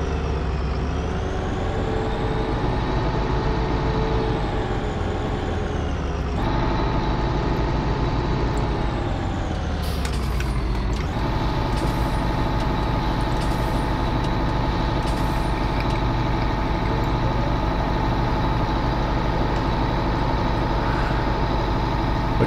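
A farm tractor's diesel engine idles steadily nearby while chaff is being made, a constant low throbbing drone that shifts pitch briefly partway through, with faint hisses and clanks on top and no voices.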